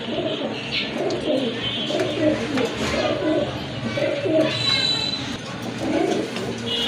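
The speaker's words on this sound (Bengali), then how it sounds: "এখানে কিন্তু তিন পিস কবুতর রয়েছে" Pigeons coo steadily and fairly close in a pigeon seller's collection of local and foreign breeds, with soft overlapping calls and faint chirps over continuous background noise.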